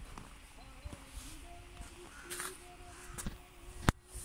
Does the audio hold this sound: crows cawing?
yes